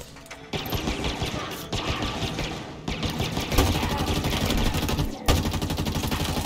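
Plasma rifle fire in the Halo Infinite campaign, a dense, continuous stream of rapid energy shots with loud bursts and impacts layered over game noise, sustained for several seconds.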